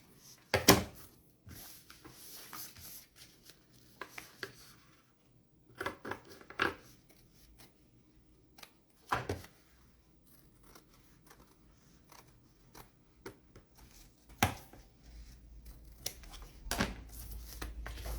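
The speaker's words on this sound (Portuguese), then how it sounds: "pode refilar esse excesso aqui para deixar bem justo na medida" Scissors trimming excess fabric while sewing a makeup bag, heard as scattered sharp snips and handling clicks spread across a quiet room, fairly faint and close.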